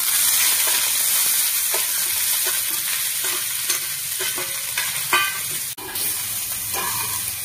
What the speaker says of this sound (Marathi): तेल गरम झाल्यात आपण ह्यात सोयाबीन टाकून घेऊया.